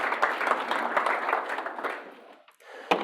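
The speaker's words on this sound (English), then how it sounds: "a round of applause for being a trooper" Seminar audience gives a brief round of applause, dense clapping that holds steady, then thins and fades out, followed by a single sharp clap.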